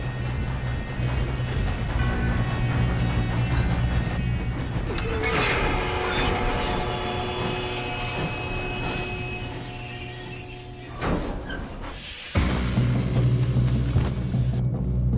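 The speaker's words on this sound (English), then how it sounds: "We have to stop this train." A moving train in the video game Red Dead Redemption 2 rumbles steadily with clanking wheels and long metallic squeals, then a sharp break before the loud rolling resumes, with no voices.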